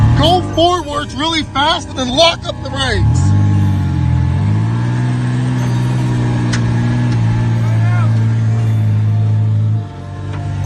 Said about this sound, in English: Go forwards really fast and then lock up the brakes.